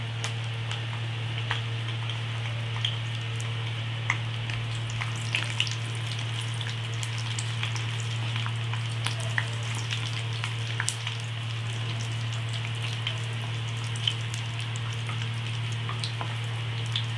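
Cumin seeds and a bay leaf sizzle steadily in hot oil for khichuri, a continuous close frying hiss with scattered crackles and pops and no talking.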